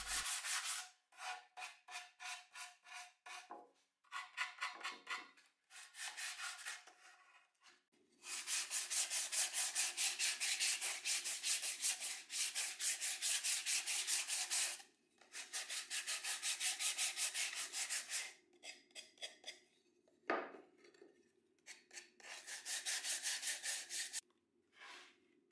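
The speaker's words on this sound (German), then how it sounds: "Schleift die Kanten und Ecken schön ab" Wooden Christmas tree decoration having its edges and corners sanded by hand, a steady scratchy rubbing in repeated strokes, short bursts at first then long sustained passes with brief pauses, close and alone.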